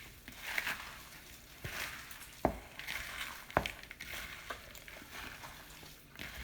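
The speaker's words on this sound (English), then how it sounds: "I use my hands. So then I mix this all up pretty good." Hands squish and knead a meat loaf mixture with eggs in a bowl, a soft, close, wet squelching and scraping with a few sharper taps against the bowl, fairly quiet throughout.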